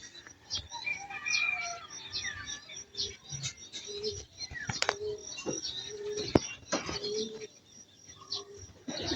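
Homing pigeons coo and chirp around their loft in a busy mix of soft, overlapping calls and short chirps, with no one speaking.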